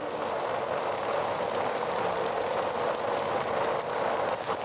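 Steady, even hiss of a rain sound effect played during a high school theater production, a constant wash with no breaks and no voices over it.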